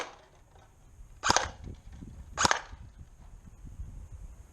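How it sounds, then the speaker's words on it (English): An ICS airsoft M1 Garand rifle fires twice at a green cup, giving two sharp, close snaps about a second apart over quiet outdoor background, with no talking. "now I'm gonna shoot the green cup that was near it, the farthest green cup"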